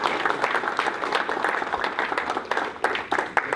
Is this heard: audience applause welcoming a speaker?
yes